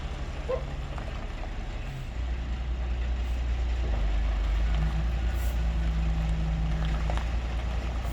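A large van's engine idles and runs with a steady low rumble close by, growing slightly louder and fuller after a couple of seconds, with faint background noise and no talk.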